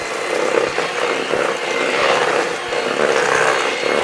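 An electric mixer beats the batter for an English pound cake (queque inglés), a loud, continuous motor whir up close with small rhythmic knocks as the beaters strike the bowl.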